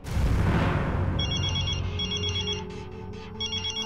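A telephone ringtone chirps in repeated electronic bursts, entering partway through over a tense dramatic music bed and continuing steadily to the end with no talk.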